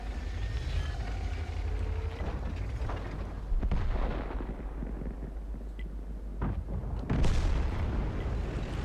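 A tank gun fires shells in World of Tanks amid deep, rumbling battle noise, with several heavy booms and sharp cracks at irregular intervals, the loudest near the end.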